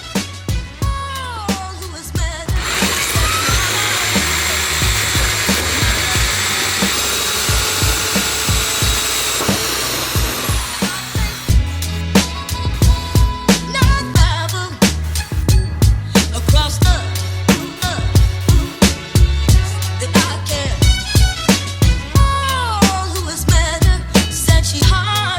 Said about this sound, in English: I've got to start drilling these big holes.